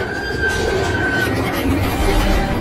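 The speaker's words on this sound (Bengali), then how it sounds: "তীক্ষ্ণ হুইসেল দিয়ে এগিয়ে আসছে মধ্যরাতের টাউন ট্রেন" A train rolls along with a steady, dense rumble, and a thin, high whistle-like tone sounds faintly through the first second or so.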